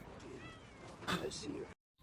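A cat meows in a TV war drama, a short mewing cry heard close and clear, mixed with speech and background sound before cutting to silence.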